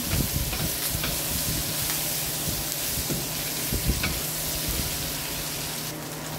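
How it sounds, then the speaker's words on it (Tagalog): Vegetables and onion sautéing in a pan for pinakbet, giving a loud, continuous close sizzle with irregular scrapes and knocks from stirring, and no talking. "Igisa po natin mabuti. Tapos haluin na natin."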